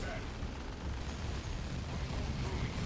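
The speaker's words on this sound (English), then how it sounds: "There's the stun bomb from Tex." A stun bomb going off in a Dawn of War II: Retribution 1v1 match, a dense, rumbling blast amid battle noise, with a commentator talking over it.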